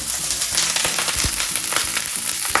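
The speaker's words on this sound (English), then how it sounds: "I'm gonna saute these" Small-cut broccoli florets sauté in a hot pan for stovetop broccoli mac and cheese, hissing and crackling continuously with scattered clicks and stirring knocks; no one speaks.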